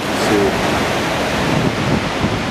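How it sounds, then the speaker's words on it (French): Ocean waves around one metre breaking at Anglet beach in a light west-southwest wind, a steady broadband roar of surf and wash with gusty wind noise on the microphone, continuous and fairly loud with no talking. "on a quelques vagues qui cassent, des vagues entre 1 mètre"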